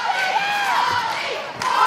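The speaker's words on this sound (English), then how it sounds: "the crowd has started a very loud Robbie, Robbie, Robbie chant" Wrestling crowd at a Championship Wrestling television event chanting a wrestler's name, a loud, sustained wall of massed voices filling the hall, swelling again near the end.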